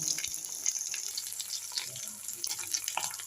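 Yam slices frying in a pan, browning on each side: a soft, moderate sizzle with scattered crackles and pops throughout, fairly quiet and close.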